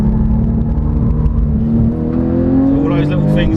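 A car engine is pushed to full throttle, its drone climbing steadily in pitch as it revs hard, loud and close throughout the clip.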